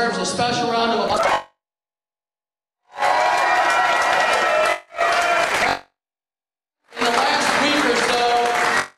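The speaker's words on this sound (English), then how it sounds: "My wife, and she deserves a special round of applause." A crowd applauds at a political victory speech in loud bursts separated by abrupt silences, with cheering voices mixed into the clapping.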